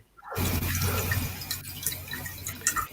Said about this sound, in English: I can hear the water running in the house. That's my fish tank thing.